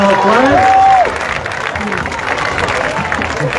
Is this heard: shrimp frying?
no